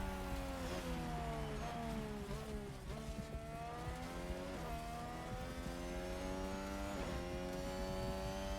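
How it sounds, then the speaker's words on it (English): A racing car engine in a Formula 2 racing video game drones loudly with rising and falling pitch, with a rhythmic flapping wobble from a damaged tire, and no voices. "It sounds like a tire flopping around."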